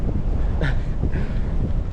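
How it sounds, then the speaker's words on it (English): Wind buffets the microphone on the Appalachian Trail with a constant low rumble and gusty roar, close and loud, with no other clear sounds. "it is a windy day"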